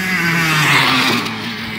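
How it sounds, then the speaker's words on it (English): A Honda CRF 250R and a Kawasaki KX 100 dirt bike ride in a backyard, their engines buzzing loudly close by with a rising and falling rev, a brief surge in the middle, then steady droning. "Malik and Jerick riding their bikes in the backyard again."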